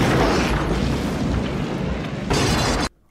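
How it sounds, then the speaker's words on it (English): Johnny Cab robotic taxi exploding in the Total Recall film: a loud, sustained roaring blast rumbles for nearly three seconds, swells again briefly near the end, then cuts off abruptly into silence. "The Johnny cab explodes."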